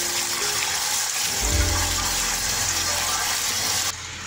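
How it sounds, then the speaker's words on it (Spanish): Green peas being washed under running water, a steady close gush of tap water that deepens midway as it fills and splashes, then eases off near the end, with no talking. "Lavamos bien el chícharo."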